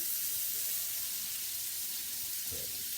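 Pork chops sizzling in extra virgin olive oil in a pan, a constant loud bright hiss running unbroken from start to finish, with a faint low knock near the end and no talking.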